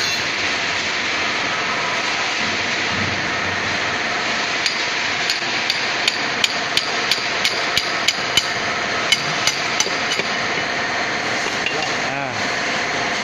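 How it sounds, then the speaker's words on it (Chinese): A hammer strikes the piston rod of a PJ series platform stacker, a run of sharp metallic knocks in fairly even rhythm over steady workshop noise, with faint voices in the background. "用锤子敲。"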